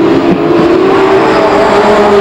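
Race cars at Lake Geneva Raceway in 1993 roar loudly in heavy traffic, their engines blending into a dense, sustained drone with a steady whining pitch and no break.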